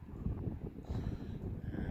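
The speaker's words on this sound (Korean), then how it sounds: "밤이 되니까 새벽에 또 이렇게 바람이 세게 붑니다" Strong wind buffets the microphone at night during a wild boar hunt in Argentina, a continuous low rumbling roar with gusty surges throughout.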